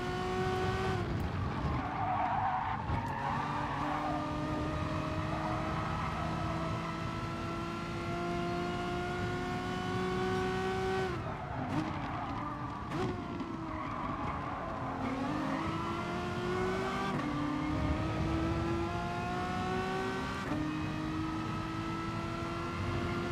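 A Honda NSX race car in GT Sport roars through gears close up with rising and falling revs, tire skids and other cars nearby, a continuous engine drone that dips and climbs repeatedly.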